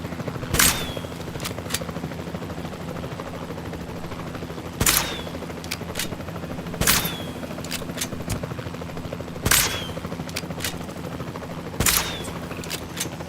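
Single gunshots in Jurassic World Evolution 2, sharp isolated cracks spaced a couple of seconds apart over a steady droning helicopter-like hum, each shot loud and brief with a short ringing tail.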